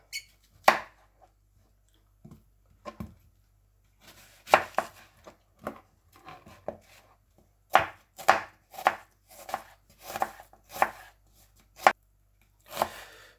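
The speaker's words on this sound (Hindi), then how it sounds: "सबसे पहले हम प्याज काट लेंगे।" Onions chopped with a knife on a board in a home kitchen, coming as a run of sharp, close, irregularly spaced knife strikes that bunch into quick bursts toward the end, with no talking.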